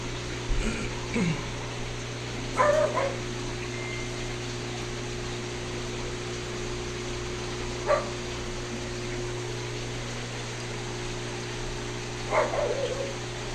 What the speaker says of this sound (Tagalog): narinig niyo yung tahol ng aso